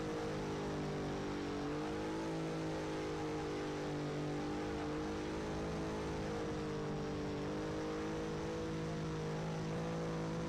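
An F1 race car in a Mexican GP racing game pulls out of the pit lane, its engine a steady high-pitched whine with gently rising and falling revs, sustained and constant for about ten seconds with no voices.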